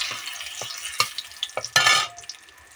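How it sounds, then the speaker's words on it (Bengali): Two bay leaves dropped into hot oil in a wok for a Bengali banana-flower curry sizzle in short crackling bursts, with a louder frying surge near the end, close up and without talk. "তেলটা গরম হয়ে গেছে, এবার প্রথমে দিয়ে দিচ্ছি দুটো তেজপাতা"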